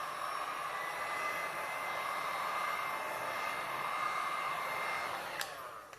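A hair dryer blows steadily over the surface of a resin painting, a constant close whooshing hum that tails off at the end.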